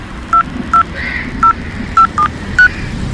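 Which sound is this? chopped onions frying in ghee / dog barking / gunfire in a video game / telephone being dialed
telephone being dialed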